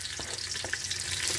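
Garlic sautés in a hot pan for adobo in Iloilo City, a dense, steady sizzle close up with a few soft stirring scrapes.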